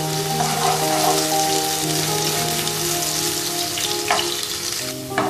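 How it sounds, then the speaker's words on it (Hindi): Chopped onions fry in a quarter cup of oil in a pan over a medium flame, a steady, loud, dense sizzle with crackling bursts running the whole time, no voices. "सबसे पहले प्याज को हल्का ब्राउन फ्राई करेंगे"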